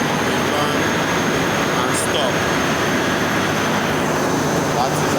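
A Niigata 8-cylinder inline main engine roars loudly and continuously, a dense steady mechanical rumble filling the space with a couple of brief hisses, and no clear speech over it.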